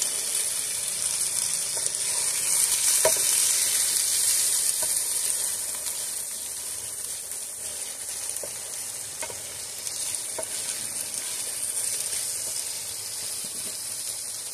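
Bitter gourd (ucche) fries in a pan with a continuous bright sizzle, occasionally punctuated by faint clicks of stirring, loudest early and easing slightly later, with no voices.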